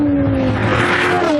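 A 4.3-litre V8 car engine accelerating hard, a loud, close rasping roar with rising harmonics that build briefly before easing, heard alone.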